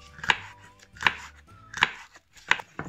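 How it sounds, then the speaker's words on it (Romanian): Peppers being chopped with a knife while preparing a winter pickle: four sharp, separate knife strikes spaced evenly, close and crisp, with no talking. "Acum vom tăia ardeii."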